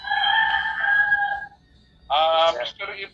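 A rooster crows loudly and close, a long drawn-out call followed after a short pause by a second, shorter crow, with no talk over it.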